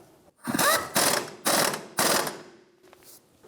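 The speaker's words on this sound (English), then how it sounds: "Pull the upper control arm down, put it into the knuckle, and start the nut. Tighten up the nut." Ratchet wrench tightening the nut on the upper control arm ball joint of a 2003-2007 Infiniti G35 during a front CV axle job, heard as four close, loud bursts of rapid clicking separated by short pauses.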